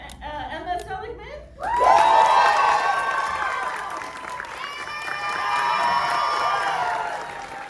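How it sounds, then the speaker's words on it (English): An audience bursts into loud cheering, whooping and applause as panel guests are brought out for a film Q&A, following a short stretch of quieter room sound, then swelling again. "So round of applause for Emma Seligman."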